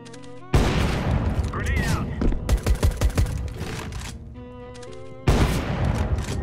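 Rapid AK rifle bursts in a video game ring out in a quick cluster of sharp cracks at mid-clip, framed by loud music-like game sound and a sudden blast at the start and near the end.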